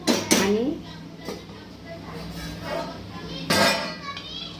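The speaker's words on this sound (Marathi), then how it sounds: "झाकण ठेवून आपण याला छान होऊ देऊ" A lid goes onto a cooking pot of arbi with a sharp metallic clink near the start and another clatter later, under someone speaking.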